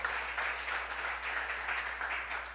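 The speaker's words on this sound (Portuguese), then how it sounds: "Dá uma salva de palmas para esse Jesus, cara." A church congregation breaks into steady, rhythmic applause during a sermon, a full clapping wash over a low steady hum.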